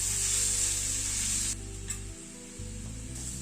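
Onion sizzles loudly in a hot pan while being stirred, the bright frying hiss dropping off partway through and returning more softly with a few scraping touches.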